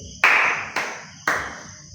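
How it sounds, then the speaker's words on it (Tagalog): Three sharp, evenly spaced claps from a classroom group, about half a second apart, each ringing briefly before the next. They are loud and close, with no talking. "Maaari niyo bang bigyan ng tatlong palakpak si John Ray?"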